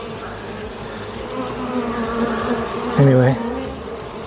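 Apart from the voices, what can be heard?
honeybees buzzing around an open beehive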